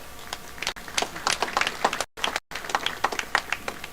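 Scattered clapping from an audience at a university graduation ceremony in Nairobi, a thin patter of individual claps, fairly faint and distant, with two brief dropouts.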